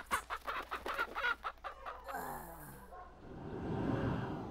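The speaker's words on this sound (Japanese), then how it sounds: "ニワトリ。" Chicken clucking in the horror video game The Another Order, a few soft, brief clucks heard faintly after a burst of rustling, set against a low background hum with no talk.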